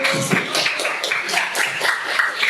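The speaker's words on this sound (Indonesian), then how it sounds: "berikan tepuk tangan" Small classroom group clapping after a student presentation on saving water, a dense patter of hand claps at close range, steady for a couple of seconds.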